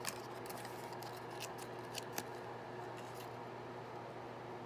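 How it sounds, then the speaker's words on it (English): Detail scissors snip the paper tabs off a die-cut heart treat box, making a few faint, quick cuts in the first few seconds over a low background hum. "get some really good scissors, detail scissors, and cut off those tabs."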